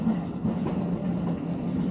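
Keio Line 7000 series train running between Keio-Hachiōji and Kitano, heard from inside as a steady rolling rumble with a sustained motor hum and light rhythmic wheel clicks, no talking.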